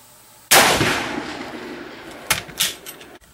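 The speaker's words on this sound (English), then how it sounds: "so I'm going to shoot" A classic deer rifle fires a single sharp, loud shot that rings out and decays over a couple of seconds outdoors, followed by faint mechanical clicks.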